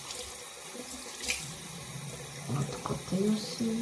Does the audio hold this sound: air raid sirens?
no